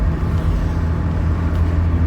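A car speeding along the Bitam Highway at around 130 km/h, with a steady, loud low road and engine roar filling the clip without a break and no voices.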